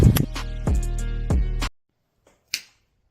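A single sharp finger snap rings out close and crisp after a stretch of loud, sustained music cuts to near silence, standing alone against the quiet.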